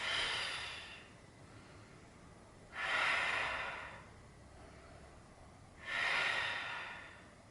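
Slow, rhythmic breaths during a Pilates exercise, three long airy exhalations spaced about three seconds apart with quieter breathing in between, close and clear with no talking.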